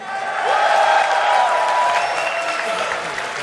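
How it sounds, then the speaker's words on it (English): An audience at a StarCraft GSL Code S final cheers and applauds, a dense wash of clapping and shouts that swells in the first second and then holds steady. "You guys cheering for MVP?"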